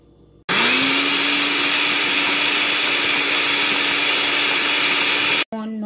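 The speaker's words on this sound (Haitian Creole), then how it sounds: "nous allons blender le cognac" An electric blender whirs through a yogurt smoothie, switching on abruptly and holding a loud, steady motor whine for about five seconds before cutting off.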